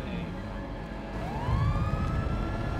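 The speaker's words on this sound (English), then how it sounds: "Oh, ambulance just took off." An ambulance siren in GTA 5 wails and sweeps upward as the vehicle pulls away, a clear rising tone over low engine and road rumble, moderately near.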